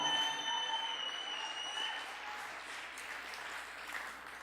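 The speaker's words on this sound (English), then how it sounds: "Let's give them another round of applause, Mark, Scott, and Tommy." An audience at a Hope for Recovery live event applauding, a sustained wash of many hands clapping together that stays fairly steady before gradually thinning out.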